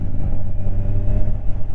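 A Kawasaki Ninja 1000 SX motorcycle engine hums loud and steady under load, a smooth continuous drone with slight rises in pitch as the revs climb.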